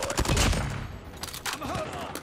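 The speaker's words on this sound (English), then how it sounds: "Sentry gun ready to deploy. Enemy contact. Sentry gun deployed." Automated sentry gun firing during a Call of Duty hardpoint match, dense continuous bursts of close gunfire with overlapping shots, loud at first and then slightly easing, with brief game voice callouts mixed in.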